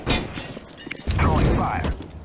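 Game grenade throws in CS:GO, a flashbang and then a frag grenade: a sharp thud and shattering burst early, then a heavier booming blast with rumbling low end, close and loud amid faint mechanical clatter.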